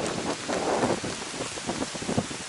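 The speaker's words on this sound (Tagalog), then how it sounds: "bagyo to" Heavy rain pours steadily during a storm on a mountain climb, a dense close hiss with gusting swells and scattered spatters of drops, and no voices.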